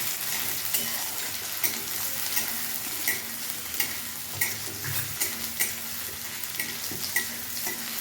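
Finely chopped onion fries in a pan toward light brown, a continuous soft sizzle punctuated by regular clicks and scrapes of a stirring spoon, nearby and without voices.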